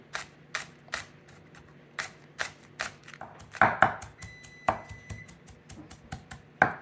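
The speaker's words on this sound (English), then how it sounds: "I'm going to slice this one in half because it's pretty fat. And then I'm just going to cut them thin." A knife cuts green onions thin on a cutting board, giving a steady series of crisp close chops that quicken into rapid taps, with no talking.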